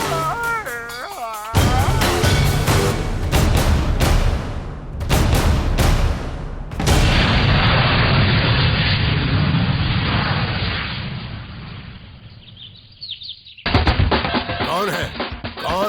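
Several loud booming bomb blasts burst in quick succession at a British major's house in a Hindi-dubbed South Indian film, followed by a long rushing roar and another sharp explosion near the end.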